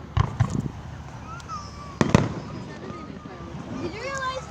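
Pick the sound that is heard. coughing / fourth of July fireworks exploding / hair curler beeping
fourth of July fireworks exploding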